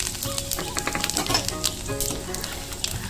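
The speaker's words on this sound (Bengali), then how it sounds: "সেই তেলের মধ্যে আমি ফোড়ন দিয়ে দেবো" Whole spices (bay leaves, dried red chillies, cardamom, cumin seeds, cloves and cinnamon pieces) sizzle and crackle steadily in hot oil for a curry, a dense, close frying hiss with small pops.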